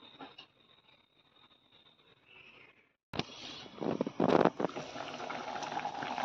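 Chicken curry bubbles under a lid; a faint, quiet simmer gives way to a sudden louder burst of boiling and clattering as the pot is uncovered, followed by steady bubbling and gurgling.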